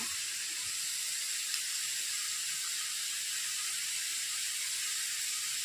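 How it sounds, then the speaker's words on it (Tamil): Dried red chillies crackle and fry in hot oil, a steady, fairly loud hiss and sizzle running unbroken throughout with no voices over it. "காரத்துக்கு நான் வந்து மிளகா வத்தல் போட போகிறேன்"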